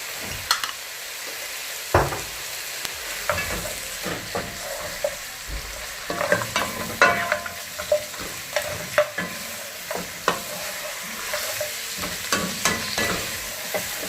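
Onions frying in hot cooking oil for a goat wet fry are stirred, scraping and clinking bursts rising over a continuous sizzle, the strokes coming irregularly and close by.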